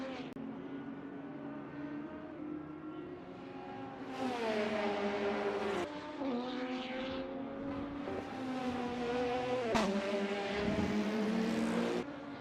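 GT3 race cars in a sim racing game, engines droning steadily with rising and falling pitch as they accelerate and shift gears, a continuous loud mechanical whine with no talk over it.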